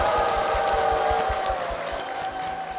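A church congregation claps together in steady, rhythmic applause, moderately loud and close, the beat slightly easing toward the end.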